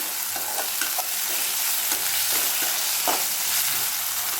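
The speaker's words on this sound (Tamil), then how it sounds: "இதோட பச்சை வாசனை போகிற வரைய நல்லா வதக்கிக்கோங்க" Ginger garlic paste and onions sauté in a hot pan with a dense, continuous sizzle up close and faint scraping stirs beneath it, with no voices.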